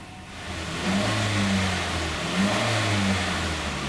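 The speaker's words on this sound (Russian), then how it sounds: "Вот автомобиль работает на газе." A Mazda CX-7 2.3 turbo direct-injection engine running on LPG, idling steadily close by with a couple of smooth revs swelling and settling back, no voices.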